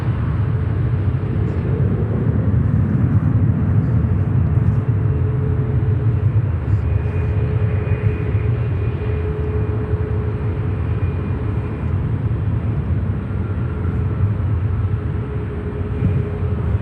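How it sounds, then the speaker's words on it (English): A distant Etihad Airbus A350-1000 taxiing at Chicago O'Hare gives a steady low jet rumble and hum that continues unbroken throughout, with faint tonal whine and no talk. "we see Etihad, another 350 1000, taxiing in the background"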